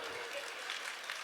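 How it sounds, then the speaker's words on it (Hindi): An audience at a Jain spiritual discourse claps in a brief, fairly quiet patter of many hands that stays even throughout. "वो कैसे ताली बजा रहे बेचारे।"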